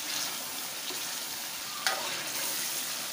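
Chicken Shinwari karahi fries in a pan with a steady, close sizzle. A brief scrape of stirring sounds partway through.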